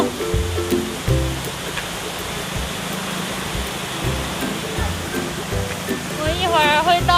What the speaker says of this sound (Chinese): 听到瀑布的声音，这是瀑布的小支流。